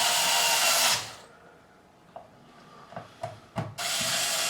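An electric screwdriver whirs loudly while driving screws into a Fender Telecaster Standard guitar, a steady burst at the start, then quiet with a few small clicks and scrapes before the motor runs again near the end.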